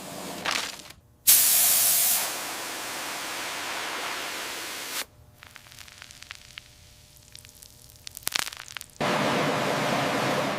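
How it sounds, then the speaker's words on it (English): A pressure washer blasts barnacles off the aluminum hull of a WWII fighter plane recovered from a swamp, running as loud, hissing sprays that cut off and restart, with scattered knocks and clatter in the quieter gaps. "The pressure washer strips them off, revealing the battle-scarred aluminum."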